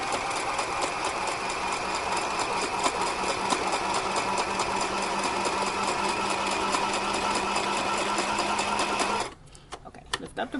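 A sewing machine runs continuously as it stitches a small doll dress, a steady rapid mechanical whir close by that cuts off abruptly near the end, leaving a few faint handling sounds.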